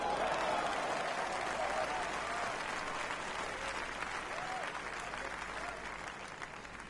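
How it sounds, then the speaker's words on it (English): A golf gallery applauds in the Rory McIlroy PGA Tour video game, a steady wash of clapping from a crowd at mid-distance that slowly fades, with a voice faintly underneath. "Crowd loving it."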